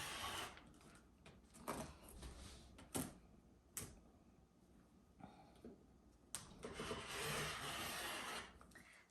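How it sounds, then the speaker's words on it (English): Fabric squares for a quilt being trimmed corner to corner with a rotary cutter along a ruler, giving close, soft rasping and rubbing strokes with a few sharper clicks and no talking. "We are going to start off by trimming on the diagonal right where we drew our lines."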